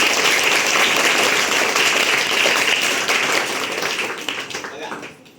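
Enthusiastic applause from an audience at a school coaching-class event, a dense steady clatter of many hands clapping that tapers off and thins toward the end.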